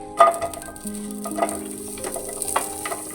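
Onions and other ingredients frying in two spoons of hot oil for methi pulao, a soft continuous sizzle with occasional light stirring clatter, close up and moderate in level.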